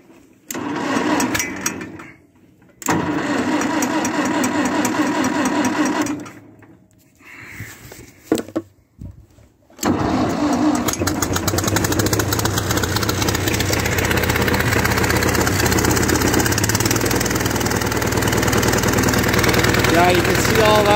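A Fordson Major E27N tractor engine starts up after a few cut-out attempts and then runs steadily and loudly for the rest of the clip, with a carburetor noted as overflowing.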